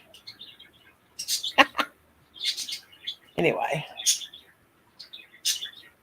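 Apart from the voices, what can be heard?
pet birds chirping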